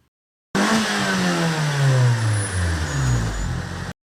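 A car engine revs up hard, pitch climbing steadily, then drops back down before cutting off, loud and close with no talking.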